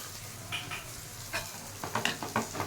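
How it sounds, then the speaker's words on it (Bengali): Lentil dal cooking in a pot is stirred, producing quiet, close scraping and soft wet clicks in an irregular rhythm over a low simmering hiss. "এবার একটু নাড়িয়ে চাড়িয়ে নেব।"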